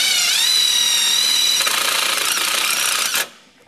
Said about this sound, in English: Now I'm going to use my favorite self-tapping screws, which are not included in the kit